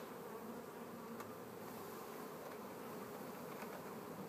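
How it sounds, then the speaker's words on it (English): Honey bees from a queen-rearing builder colony hum in a steady, dense buzz, close and continuous throughout with no voices. "And then all these bees that are in the builder colony,"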